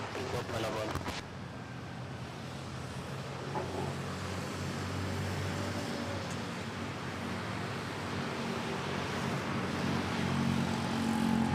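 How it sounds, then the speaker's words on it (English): A Philippine Airlines airliner touches down at Manila airport, heard as a steady, distant roar of jet engines and rushing air that builds slightly throughout, with no clear talk over it. "Touchdown early, Philippine Airlines"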